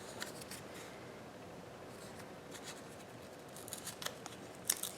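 Small scissors snip through paper in a journal, a run of quiet, close cutting strokes with soft paper rustling between them, a crisper snip near the end.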